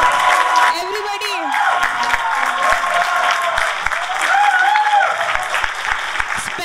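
Crowd applause for a dance team at a college cultural night, dense steady clapping with cheers and whoops throughout, voices shouting over it.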